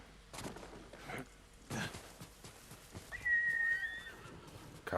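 A horse in the Ghost of Tsushima video game gives a brief high whinny near the end, after a few scattered thumps and rustles, fairly faint and with no talk.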